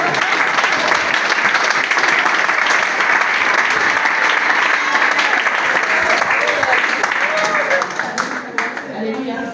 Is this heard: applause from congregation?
yes